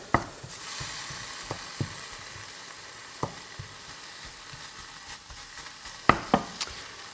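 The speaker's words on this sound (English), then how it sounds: "I'm gonna just mix the bacon around a little" Bacon frying in a pan hisses and sizzles steadily while a utensil stirs it, with scattered scraping clacks and louder knocks against the pan, no voices.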